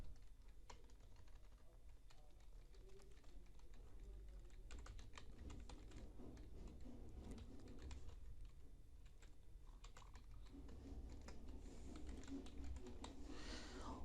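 Computer keyboard typing an email address into an online registration form, a quick run of light, fast key clicks, faint and close, with no voices.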